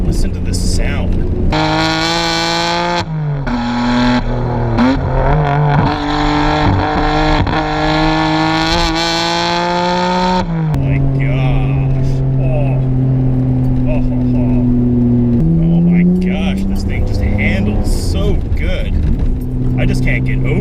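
A 1992 Nissan Skyline GT-R engine revs and accelerates loudly from inside the car, climbing through gears in rising, falling sweeps with gear changes clearly audible.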